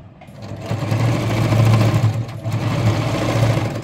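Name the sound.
sewing machine back stitching a chudidhar top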